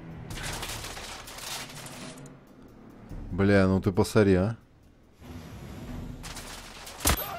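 Silenced guns fire during a shootout in the video game The Order: 1886: muffled bursts of shots come in a cluster at the start and again near the end, closing with one sharp crack, while someone speaks in between.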